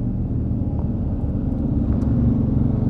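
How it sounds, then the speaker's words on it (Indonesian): A tanker truck passing on a road near new construction in Malang, a steady low engine rumble and tyre roar, loud and close throughout. "ada mobil tangki juga ya"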